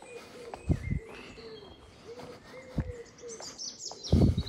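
Birds sing and chirp outdoors in the gardens at Dartington, with varied whistles and tweets overlapping, moderately close, alongside a few low cooing calls and soft thumps.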